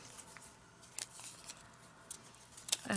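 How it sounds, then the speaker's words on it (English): Several crisp, quiet snips of scissors trimming felt, spaced irregularly, with a quick cluster of cuts near the end. "I'm angling so my scissors are just underneath it, underneath the pendant when I cut it."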